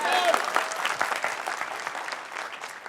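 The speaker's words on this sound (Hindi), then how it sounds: "तो ताली बजना चाहिए ना?" An audience claps together at a business felicitation event, a dense, steady round of applause that fills the whole moment at close range.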